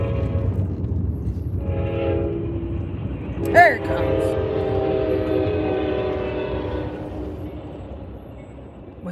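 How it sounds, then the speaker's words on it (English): A commuter train approaches and passes, a low rumble building with a short, sharp horn blast partway through, followed by sustained rolling rail noise that slowly fades; a voice speaks briefly near the start. "We have our little commuter train."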